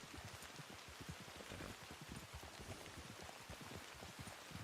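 Steady rain pours down in the Red Dead Redemption 2 world, a dense hiss of drops with soft patters on surfaces, fairly quiet and continuous with no voices.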